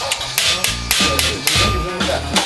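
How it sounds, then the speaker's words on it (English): A hammer drives a punch to knock a rivet out of a piece of armor: a series of sharp, close metallic blows struck at an uneven rhythm. "I'm just trying to remove enough of the rivet that I can punch it through and not damage the armor."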